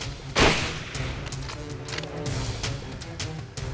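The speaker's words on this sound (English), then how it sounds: "Put one more into its chest" Rifle shot fired at a charging Cape buffalo in thick cover, a single sharp close blast near the start, followed by rustling and movement noise.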